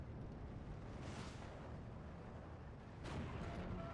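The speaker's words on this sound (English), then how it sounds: "Stug 4 is shooting at the infantry" A StuG IV assault gun in Steel Division II fires on infantry, heard as dense, rumbling battlefield noise with a heavy boom near one second and another blast around three seconds over continuous low-frequency din.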